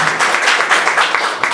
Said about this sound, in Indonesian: Berikan sekali lagi tepuk tangan bagi teman-teman saya,